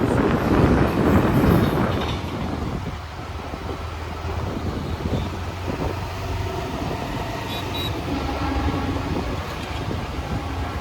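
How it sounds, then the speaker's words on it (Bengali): A train arriving at a station rumbles past nearby with heavy low rolling noise and some wind buffeting, louder at first and then settling into a steady drone. "রাজ্য স্টেশনে ট্রেন আসছে একদিকে বাইক একদিকে ট্রেন"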